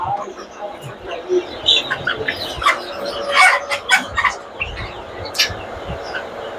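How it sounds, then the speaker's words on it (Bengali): Silkie chickens at an animal market in Chattogram cluck and chirp in short, scattered bursts, mixed with other bird calls and a busy crowd murmur; voices talk nearby throughout. "এই যে এখানে মুরগি দেখতে পাচ্ছেন, সিল্কের মধ্যে এগুলো। এটা হচ্ছে সিল্কি।"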